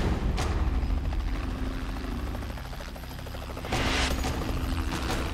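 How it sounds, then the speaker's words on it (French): A helicopter lands at a hospital emergency department, its rotor thudding loud and steady throughout with a broad roar, dipping briefly midway before surging back stronger. "Un hélicoptère atterrit"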